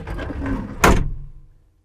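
Cab door of a Kubota 95-2s mini excavator, a soft swinging rustle followed by one loud latching thud that fades out.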